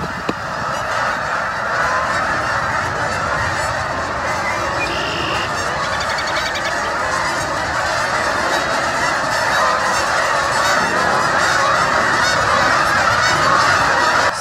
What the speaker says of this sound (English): Something's worked up those geese. They're not happy right now.